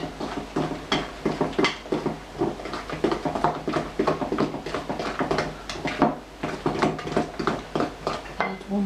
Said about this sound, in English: Scrape it carefully from the sides of the bowl.